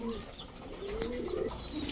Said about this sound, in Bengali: এখন দেখাবো পাকিস্তানি ঝাঁক গলা, একদম বেগুনি পায়ের কবুতর।